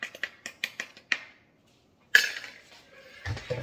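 Chocolate chip banana muffin batter mixed in a bowl: a quick series of sharp utensil clinks and taps against the bowl, a pause of silence, then louder scraping and knocking up close.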